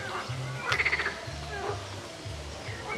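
Frogs croak in low, repeated pulsing calls close by in a park pond in Varna, Bulgaria, with a brief higher chirping burst and no one talking.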